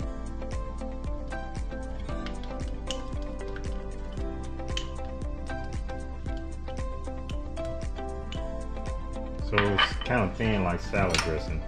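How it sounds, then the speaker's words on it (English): Lime juice sauce is stirred in a bowl for coleslaw, with a regular rhythmic clinking and scraping of a utensil against the bowl over a steady background hum, ending in a louder flurry of clatter. "you basically then just want to stir until you get a good consistency"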